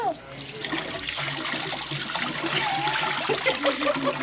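Water runs steadily from a tap or faucet, filling a sink, a continuous splashing wash heard close by with faint voices and small clatter in the background.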